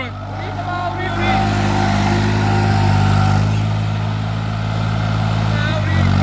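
A New Holland 3630 4x4 Super Plus tractor engine runs steadily close by with a deep, droning rumble at constant revs, while people talk over it.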